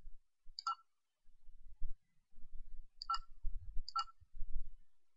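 Three sharp computer mouse clicks spaced across a few seconds while building an electric circuit in the Edison simulation program, separate and close, with quiet low background rumble between them.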